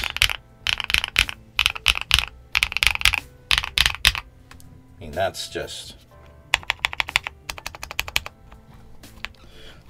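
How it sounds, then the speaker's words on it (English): Rapid bursts of mechanical keystrokes on a GMK67-S keyboard, clattering in quick clusters with brief pauses, close and crisp, with someone talking briefly amid the typing. "I really enjoy how these GMK boards come out just sounding so good right out of the box."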